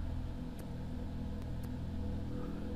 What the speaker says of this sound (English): Can we materialize a car here?